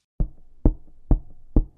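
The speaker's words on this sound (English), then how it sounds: "Now the first one is a kick" Four dry, punchy kick-drum hits made from an acoustic guitar fall at an even, spaced rhythm. Each is a short thump that decays quickly, with silence before the first.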